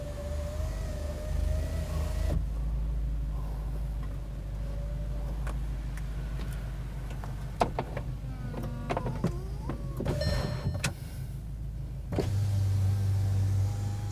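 The electric soft top of a 2015 VW Golf R Cabriolet whirs and hums as it closes at close range, broken by clicks and mechanical clunks, before a louder motor drone at the end.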